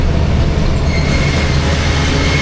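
The 40 Down Jaffar Express pulls into Gujar Khan railway station with a loud, continuous rumble of wheels and carriages and a thin, steady high squeal above it. No one speaks.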